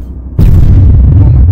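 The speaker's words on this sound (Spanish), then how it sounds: "Tírale otro cañonazo." A cannon shot in the video game Arma 3, a sudden loud boom after a quieter moment, followed by a sustained heavy low rumble with no speech.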